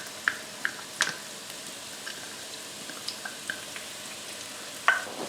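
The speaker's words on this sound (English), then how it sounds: "So the first thing we're going to do is we're going to saute our aromatics." Chopped onion and ginger sauté in a pan with a faint, steady low sizzle and scattered soft pops and ticks, a little louder near the end.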